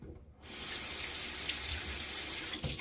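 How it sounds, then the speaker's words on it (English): Water runs from a bathroom tap in a steady splashing stream as shaving lather is rinsed off the hands. The flow starts abruptly and stays close and continuous. "Doesn't take too long to rinse away from the hands."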